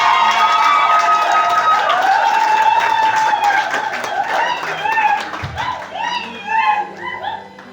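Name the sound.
wedding guests applauding and cheering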